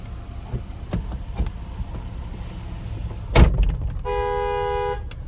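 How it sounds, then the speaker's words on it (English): Horn of a 2025 Jeep Wrangler Sport 2-door 2.0T sounding from inside the cabin: one steady, sustained honk lasting about a second near the end, after several short clicks and thumps. "There's the horn"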